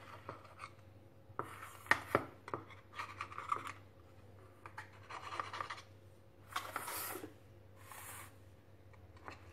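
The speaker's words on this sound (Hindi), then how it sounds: "इस तरीके से चाकू की सहायता से हम सारी इडली को नीचे से ऐसे कर देंगे" A knife scrapes maize-flour idli loose from a greased mould in short rasping strokes, a series of close, dry scratching bursts separated by quiet pauses over a low steady hum.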